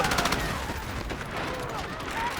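Gunfire in the shooter game Delta Force, a steady stream of fairly faint shots and rattling bursts heard at a distance, mixed with game noise.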